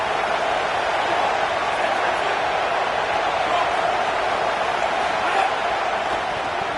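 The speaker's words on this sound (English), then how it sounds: "This crowd knows when to bring it." Roaring football stadium crowd at a USC versus Miami game, a dense, loud, unbroken wash of cheering noise holding steady throughout with no distinct voices standing out.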